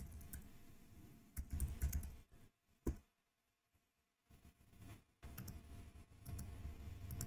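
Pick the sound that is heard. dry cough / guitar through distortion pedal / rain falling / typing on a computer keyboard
typing on a computer keyboard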